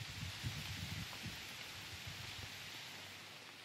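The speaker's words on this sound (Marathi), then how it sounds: "जोरात पाऊस आलाय बघा." Heavy rain falling in a village farm area, a steady dense roar of drops drumming on surfaces close by, continuous and loud throughout with no voices.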